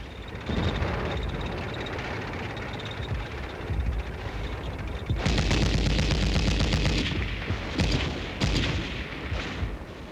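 Artillery fire booms during an army exercise in Hawaii as an aggressor tank is hit, with a sustained rumbling barrage that swells into louder, overlapping blasts and sharp bangs midway, loud and close.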